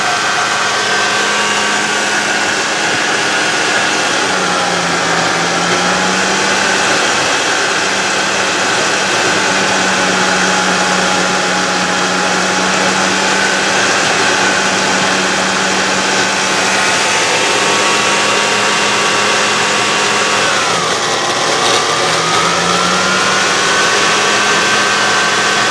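Two induction motors wired in series run together with a steady, loud electrical whine and hum that holds for the whole stretch, its pitch drifting slightly and briefly dipping near the end.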